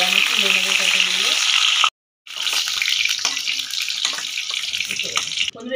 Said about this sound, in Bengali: তেলটা গরম করে নেব। পটলটাকে ভেজে নেবে।